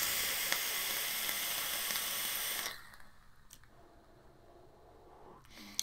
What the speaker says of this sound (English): the airflow is quite noisy on this as well